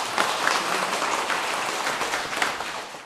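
Audience applause at a Buddhist monk's lecture, dense, steady clapping from a large seated crowd filling the clip at an even level.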